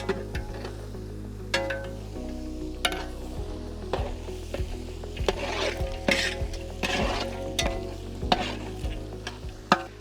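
Potatoes, green peas and other vegetables for an Afghani-style veg pulao sizzle and fry in a pan while a spoon stirs and scrapes them in repeated strokes, with occasional clinks of metal against the pan, close and steady with no talking.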